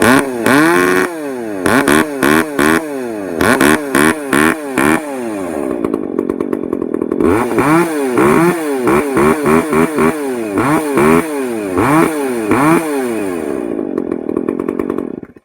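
A Poulan 4218A chainsaw with a modified muffler and retuned carburetor runs loud and close, revving hard in repeated bursts that rise and fall, with a stretch of steady high idle partway through.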